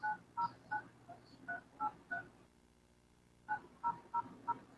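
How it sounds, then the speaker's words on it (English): Telephone keypad tones dialing a radio station's number, a quick run of six clear beeps, a pause with a faint steady hum, then four more evenly spaced beeps, loud and close. "I am calling KCA Radio at 909-383-9000"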